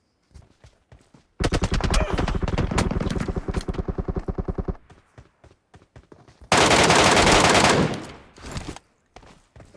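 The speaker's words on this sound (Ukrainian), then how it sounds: "по ньому хтось стріляє" Loud bursts of rapid gunfire in the Metro Royale mode of a video game, including an MK14 rifle: a long rattling volley followed by a brief harsh barrage, then scattered quieter shots.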